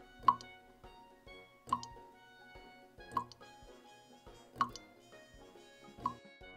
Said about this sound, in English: A tap makes a dripping sound.